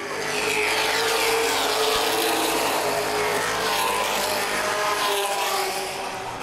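Late model race cars roaring around the oval at Baer Field Speedway, a dense, steady wall of engine noise as the pack runs together, loud and continuous with no talk over it.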